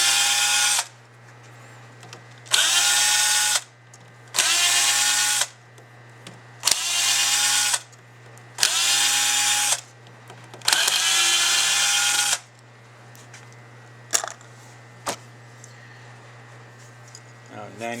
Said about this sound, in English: You can remove all 6 screws.